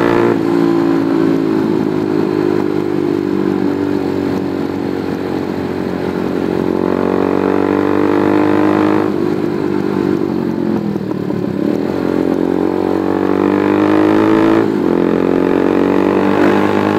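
A motorcycle ridden slowly over a badly broken road, its engine droning steadily and close with small surges and dips in pitch, plus faint rattling, with no talk.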